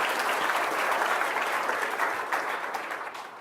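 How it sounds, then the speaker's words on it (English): A crowd applauds a street vending victory in Los Angeles, steady dense clapping from a sizable audience that holds full and even, then thins slightly toward the end. "Let's give that a big round of applause."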